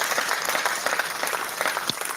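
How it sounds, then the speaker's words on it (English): Audience applause at a formal event in honour of a chief of staff: steady, dense clapping from a crowd filling the whole short stretch, moderately loud with no talk over it. "deserves a hand of applause"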